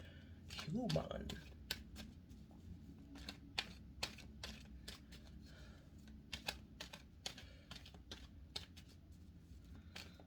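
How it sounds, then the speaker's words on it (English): Tarot cards being shuffled in quick bursts of crisp riffling clicks, close by, with a low murmur underneath throughout. "You saw me shuffle. You see? I shuffled though."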